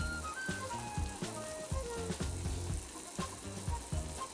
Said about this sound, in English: Then add the mushrooms, leeks, and fried tofu slivers. And let everything cook together for about 2 minutes.